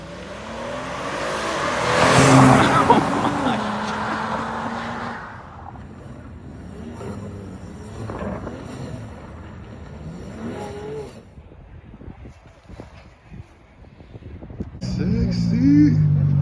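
A BMW M4's engine revs loudly at a spring Cars & Coffee meet, a strong surge early on, then idling and passing traffic before another rise, with people chatting nearby.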